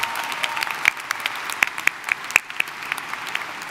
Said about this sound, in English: Let's also give a round of applause for the ESU Commencement Band.